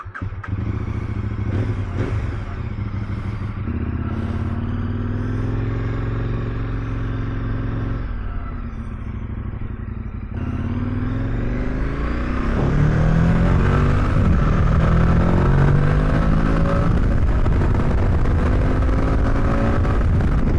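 A KTM 1090 Adventure R fitted with a tall comfort seat rides along, its engine a steady loud drone that climbs in pitch as it accelerates through the gears, with wind and road rumble building steadily over the run.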